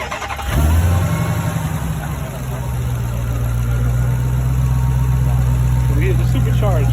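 Supercharged Dodge Demon engine firing up and revving loud and close, a deep roar that settles into a steady, strong rumble with supercharger whine; a voice talks briefly over it.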